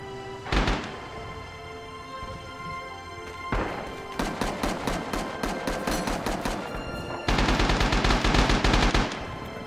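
M1 Garand rifle fire in the Red Orchestra 2 game, with a short burst, then rapid rhythmic volleys of loud shots, and a faint metallic ping of ejecting clips among the dense gunfire.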